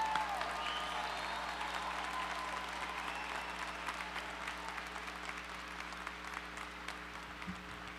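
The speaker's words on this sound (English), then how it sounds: "Please join me in a round of applause." A graduation convocation crowd applauds degree candidates, steady distant-sounding clapping spread through a large hall, fairly soft and continuous with a low hum underneath.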